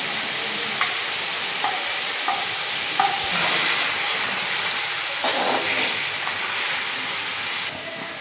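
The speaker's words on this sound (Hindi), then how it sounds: "चिकन फ्राई हो गया।" Chicken fries in a pan while making chicken biryani, giving a steady close hiss and sizzle with a few faint clicks throughout and no voices.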